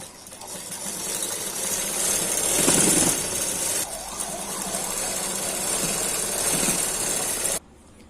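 A sewing machine stitches the shoulder seam of a collar blouse with a half-inch allowance, a steady loud motor whir running continuously for several seconds and then cutting off abruptly near the end.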